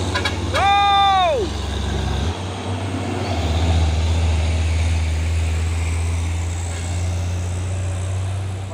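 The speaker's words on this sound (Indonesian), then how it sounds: "Truk Hino 500 ini." A heavy Hino 500 truck engine rumbles steadily and close, with a short falling horn-like tone near the start over the continuous drone.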